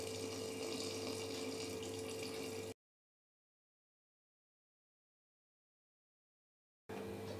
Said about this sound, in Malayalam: അപ്പോൾ ഞാൻ ഇതിനി പയ്യെ ഇതിനകത്തോട്ട് ഒഴിച്ചു ഒഴുകുന്നുണ്ട്.